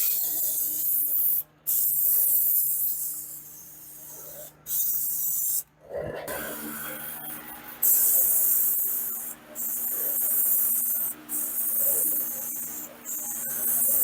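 A spray gun lays paint coats on a VW Beetle, giving repeated bursts of steady hiss separated by short pauses, close and fairly loud, with no talk.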